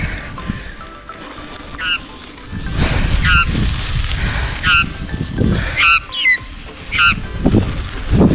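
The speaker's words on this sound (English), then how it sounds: "This bird attacked me." An aggressive bird at an Australian shore honks repeatedly in loud, goose-like calls, several bursts spaced irregularly over steady background noise, close to the microphone.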